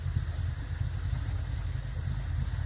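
A Ford Fox Body Mustang engine idles steadily up close, a low rumbling drone with no revving and no voices.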